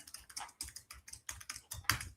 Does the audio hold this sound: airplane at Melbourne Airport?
no